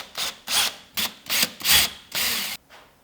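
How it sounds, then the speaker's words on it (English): A drill boring small pilot holes into a wooden board for 3/4 inch wood screws, heard as six short, close whirring bursts separated by brief pauses, with no talking. "I have these 3/4 inch wood screws here that I just need to put a little hole in"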